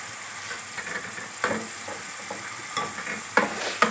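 Minced meat (qeema) sizzles steadily in a pan over a low flame while it is stirred, with a few louder scraping strokes cutting through the constant frying hiss.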